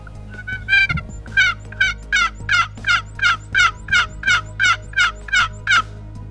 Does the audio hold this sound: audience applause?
no